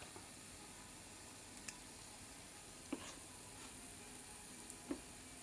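Bondalu fritters frying in hot oil, a soft steady sizzle with occasional small pops and ticks, faint and close.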